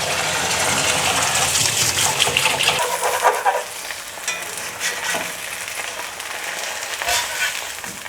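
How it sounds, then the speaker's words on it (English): Hands washed under a running kitchen tap while cooking, a loud steady gush of water splashing into a sink, close and continuous, with faint clatter near the end. "Just wash my hands."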